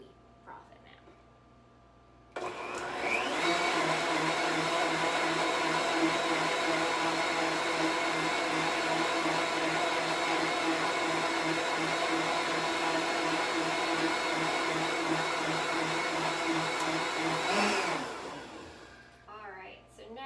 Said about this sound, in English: Wait till we froth it now.